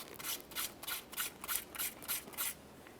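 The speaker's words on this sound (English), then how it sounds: "We'll start with some fine sandpaper along the outside." Fine sandpaper rubbed back and forth on the outside of a 2010-2013 Kia Forte Koup steering knuckle at the ABS wheel speed sensor mount, a close, steady run of about nine quick hissing scratches with no voices.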